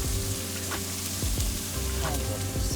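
Tomatoes fry in a pan with a steady, close sizzle and crackle, broken by a few stirring scrapes.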